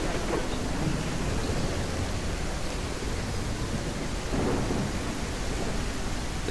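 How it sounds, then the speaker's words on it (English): Steady downpour of rain with a low rolling thunder rumble in the Clawed dinosaur game demo; dense, continuous hiss with deeper swells rising and fading now and then. "you've got the rain coming down, then every now and then you can hear what sounds like the rumble of a T-Rex"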